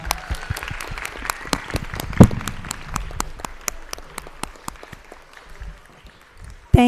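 A school board meeting audience in Marlboro Township gives a round of applause, clear separate hand claps from a modest group, steady then gradually thinning, with a brief voice and thump near the end.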